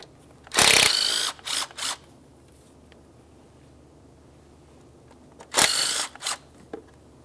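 A ratchet removes the 12 mm mounting nuts from the fuel rail of a 2003-2007 Honda Accord, with two bursts of rapid clicking about five seconds apart, close up in a quiet workshop.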